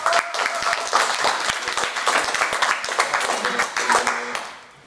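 Audience applause at a school amateur-radio contact event: dense, sustained clapping from a crowd for several seconds, with some voices mixed in, fading out at the end.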